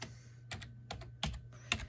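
A username and password typed on a computer keyboard, with a handful of quick, close key clicks in short irregular bursts, quiet and with no one talking.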